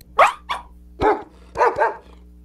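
A barking-like Pokémon cry from a Gen 9 video game: four sharp, close bark bursts in uneven rhythm, the last two coming in quick succession, heard alone over a faint low hum.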